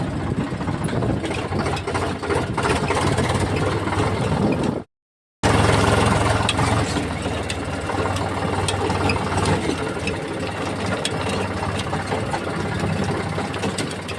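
A tractor engine idles with a steady, rough low chugging that continues throughout at close range.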